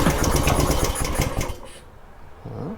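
A Warrior 200cc engine with the choke on cranks and fires in a rapid, loud pulsing burst for about a second and a half, then cuts off, followed by a quieter, faint low tone.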